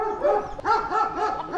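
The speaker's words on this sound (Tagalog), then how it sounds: "May aso din doon." A dog barks repeatedly at a farm full of roosters, giving a quick series of close, moderately loud yaps and whimpering barks in an uneven rhythm, with no talking.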